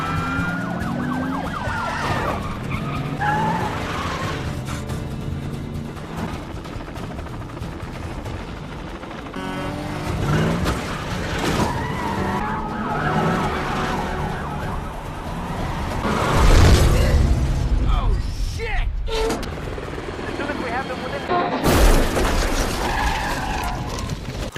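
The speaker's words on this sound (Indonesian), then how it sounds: "mobil Jack terbalik dan terbakar" A film car chase plays out with wailing police and emergency sirens, screeching tires and engine roar, then heavy crash impacts as the car flips over and bursts into flames amid dense, loud action.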